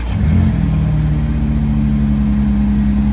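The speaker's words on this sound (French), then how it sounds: "La M3 et la RS3 qui partent." A BMW M3 and an Audi RS3 pull away together at a Paris car meet. A close, loud engine drone rises briefly as they rev and accelerate, with no one speaking.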